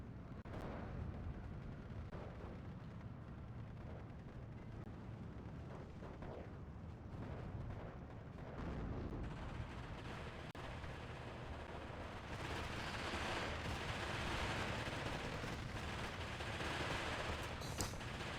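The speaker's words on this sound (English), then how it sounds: "Zis2 here shooting at that Sherman" In the Steel Division 2 video game, a ZiS-2 anti-tank gun fires at a Sherman tank amid a constant dense roar of battle, with shots and blasts layered over rumbling noise that swells louder toward the end.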